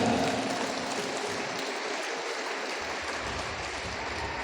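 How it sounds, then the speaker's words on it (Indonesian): An audience in a sports hall in Nunukan claps for the people of Nunukan during a religious lecture, producing a dense, steady wash of applause that holds evenly for several seconds with no talking over it. "Tepuk tangan dulu untuk orang Nunukan"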